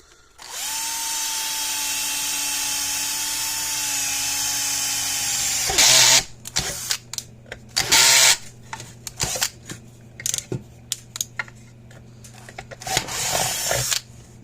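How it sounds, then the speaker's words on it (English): A power drill whirs steadily for several seconds, then bursts of drilling start and stop in short pulses with clattering and handling noises between them, drilling two holes in an electric fence charger. "drill 2 holes."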